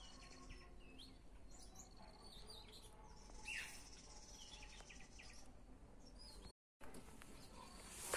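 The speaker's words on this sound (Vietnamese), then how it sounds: "Các bạn có thể nghe thấy tiếng chim đang hót này." Faint birdsong drifts through a remote mountain forest: scattered chirps and calls over a soft insect and cricket drone, all quiet and distant.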